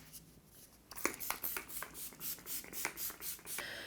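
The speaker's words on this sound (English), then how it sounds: "I'm gonna go in with a little bit of a setting mist. So I'm going to use the Urban Decay, whatever this is called, All Nighter" Urban Decay All Nighter setting mist is sprayed close by in a rapid series of about ten short, bright hissing pumps, fairly quiet, with no talking.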